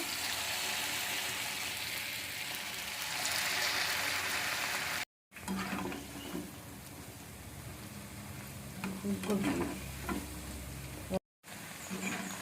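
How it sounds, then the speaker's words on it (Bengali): Boiled cauliflower pieces coated in paste fry in a pan for cauliflower Manchurian, giving a continuous soft sizzle and faint hiss at moderate level, with a couple of brief silent gaps. "ফুলকপিগুলোকে ফ্রাই করে নেব।"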